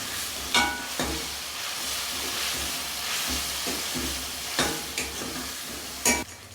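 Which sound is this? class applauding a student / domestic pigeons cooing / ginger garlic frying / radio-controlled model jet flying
ginger garlic frying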